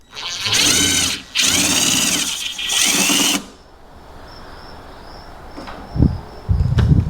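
A power driver with a long extension and a 10mm socket removes a bolt near the headlight of a 2024 Ram 1500. Three loud whirring bursts of the driver come up close, then a quieter stretch with a faint whine and a few clicks and knocks.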